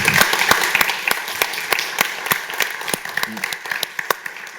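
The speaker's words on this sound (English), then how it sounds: "Let's give our presenter a round of applause." An audience at a science seminar on agricultural emissions applauds the presenter, a steady patter of many hands with some sharper individual claps and faint voices underneath.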